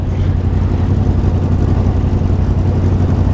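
Motorbike engine revved at a bike-life gathering on an island, a loud, close, steady low rumble with throttle pulses, heard alone without talk.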